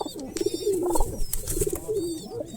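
Girebaz pigeons cooing in a home loft, a low, rolling coo repeated in a few bursts over steady background bird chatter, fairly close and with no talking.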